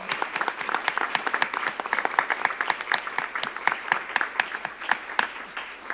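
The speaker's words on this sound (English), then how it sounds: "Would you please give them a big round of applause?" A room full of people clapping at a board of regents meeting, individual claps audible in a lively, uneven rhythm that stays strong throughout.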